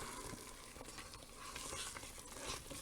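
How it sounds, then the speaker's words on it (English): Lima beans cook in a pot on the stove, giving a faint, continuous hiss and bubbling with soft scraping of stirring, quiet and steady throughout. "This right now, I need to stir like every minute or so"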